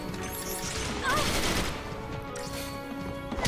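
A hand grenade blast from the video game Final Fantasy XIII: a loud, dense burst of crackling, gunfire-like noise that holds steady for several seconds amid other battle sounds.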